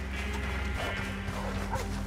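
Dogs barking in the open-world Western game Red Dead Redemption 2: scattered barks and yips set inside a dense, steady bed of game ambience, with possible hoofbeats nearby.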